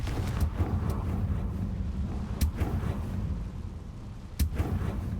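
A Confringo blasting spell goes off in a video game, two sharp explosive bursts landing a couple of seconds apart over a steady rumbling game ambience, with no talking.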